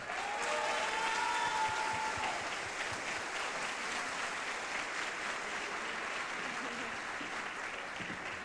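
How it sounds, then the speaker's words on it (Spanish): A large audience at the Mexicana Universal Jalisco pageant final applauds steadily, a dense sustained clapping that holds at even loudness throughout, with a faint voice briefly audible early on. "con un fuerte aplauso"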